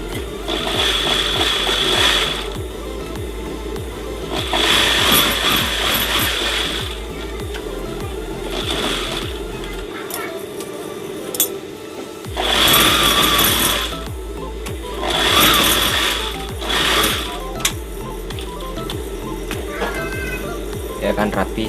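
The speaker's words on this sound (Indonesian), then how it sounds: "teman-teman bisa jahit bagian yang pakai karet" A sewing machine stitching an elastic skirt waistband runs in several loud whirring bursts separated by short pauses, with a voice speaking between and over the runs.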